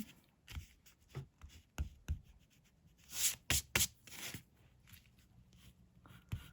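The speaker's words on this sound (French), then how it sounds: "On gomme." An eraser rubs out pencil lines on a vintage-style paper card in short scrubbing bursts, close and fairly quiet, with a busier, louder flurry of rubbing in the middle.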